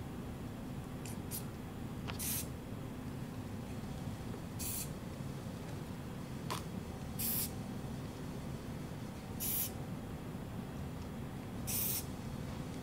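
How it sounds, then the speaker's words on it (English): Several short spritzes from a spray bottle onto paint pour crafts, spaced a few seconds apart, hiss quietly against a low steady background hum. "So let's go ahead and just give each of them just a small spritz."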